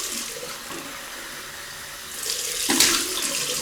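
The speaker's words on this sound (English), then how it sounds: "Cold water, Welsh water, Paul's water." Cold tap water runs steadily into a sink, a continuous splashing rush that swells louder near the end.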